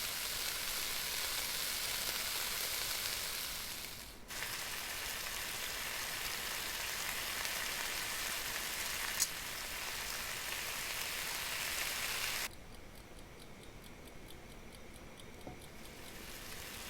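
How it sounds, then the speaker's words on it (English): Fish frying in a pan in the video game Cooking Simulator: a steady, close hiss of sizzling oil runs throughout, with a faint ticking timer in the final seconds. "So now we're just going to be frying it on the other side for 1 minute."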